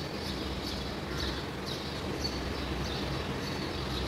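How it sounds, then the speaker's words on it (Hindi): Small birds chirp in short repeated bursts at a distance in the early morning just before sunrise, their faint calls sitting over a steady low outdoor rumble. "चिड़िया की चहचहाहट"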